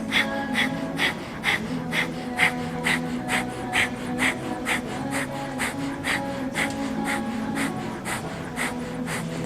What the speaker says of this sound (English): Put your tongue in your mouth, pant that way through your nose.